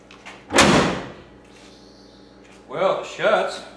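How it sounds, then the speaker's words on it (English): The hood of a 1992-96 Ford F150 Flareside is shut with a single solid thud early on, then someone talks briefly afterward. "Now we'll close the hood and see if it shuts as it should."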